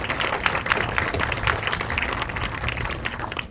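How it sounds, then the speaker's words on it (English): Applause from guests at a university neurodivergence center dedication honoring advisory board members: continuous, moderately quiet clapping from a crowd indoors, even and unbroken throughout. "So if you would give them a round of applause."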